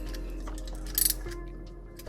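A 6mm socket loosens the hose clamps on a Ford Focus ST/XR5 Turbo MK2 RS oil cooler, giving faint, close ticking clicks with a brief brighter burst midway in a quiet space.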